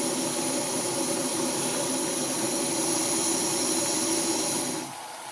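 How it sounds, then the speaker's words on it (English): Water at a full rolling boil on an AWRoutdoor 3500W camping stove, a steady loud roaring hiss with a bubbling rush that holds evenly and then drops off abruptly near the end. "Full rolling boil now."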